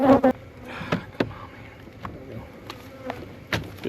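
Honey bees buzz around hive frames during honey collection, a steady insect drone with brief knocks and handling clatters close by, and a voice briefly at the start.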